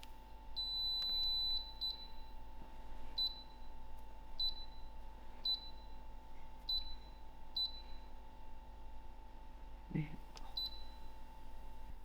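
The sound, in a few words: air fryer control panel beeps while selecting bake function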